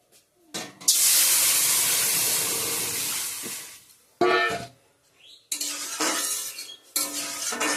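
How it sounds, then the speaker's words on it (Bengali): Water poured into fried mung dal in a hot pot sets off a loud, sustained hissing sizzle for several seconds, followed by shorter bursts of hiss and bubbling after brief pauses. "ভাজা হয়ে গেছে ডালটায়, জল দিয়ে দেবো।"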